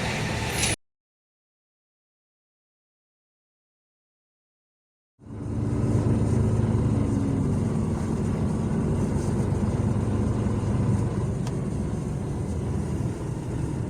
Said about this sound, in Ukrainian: Зараз запаркуємося.